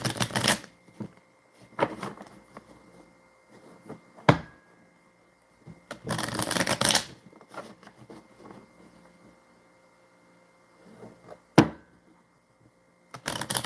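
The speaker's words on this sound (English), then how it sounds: "Shuffle them up again, and hopefully get the 2 of Hearts here." A deck of playing cards shuffled by hand at a table, several brisk riffling bursts separated by quiet gaps, close and fairly soft, with no talking.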